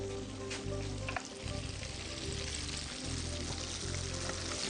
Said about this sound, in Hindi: मैं जब तक फिश को फ्राई करता हूं